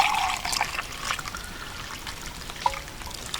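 Hot water from a kettle trickles into a cup for hot chocolate at a campsite, a soft, close liquid pour with a faint gurgle and a small clink partway through.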